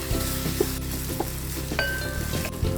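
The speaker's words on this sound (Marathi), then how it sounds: "हे वाटण ह्या मसाल्यामध्ये चांगलं परतून घ्यायचं" Ground onion-coconut paste frying in masala for a dried Bombay duck and potato curry, a loud close sizzle with stirring scrapes and a few utensil knocks against the pan.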